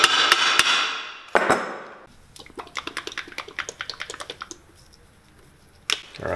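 A small hammer taps down burrs on brass boot eyelets: a few sharp metallic strikes, then a quick run of light, rapid taps, close and clear with no talking.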